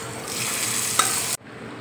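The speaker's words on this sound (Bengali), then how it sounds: "এবার দেখো আমি তরকাটা দিয়ে দিচ্ছি" A tempering of curry leaves, asafoetida and chilli in hot oil hits a pot of moong dal, giving a loud, steady broadband sizzle with one sharp crackle midway before it cuts off abruptly into near silence.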